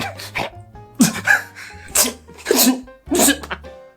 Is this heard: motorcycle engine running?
no